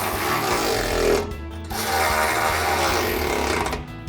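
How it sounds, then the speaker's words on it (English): A ratchet with a 13mm socket tightening the mounting bolts on a Jeep Wrangler JL's heavy-duty steel side step bar gives a steady, loud mechanical clatter that stops briefly near the middle and picks up again. "just gonna go grab your ratchet, 13mm socket, and tighten all these down"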